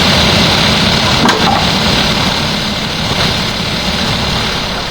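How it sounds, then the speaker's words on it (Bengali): A car engine running overhead in the horror game Evil Nun: a steady low rumbling drone that holds at a fairly even level throughout, with no talk over it. "উপরে গাড়ির শব্দ পাইলাম"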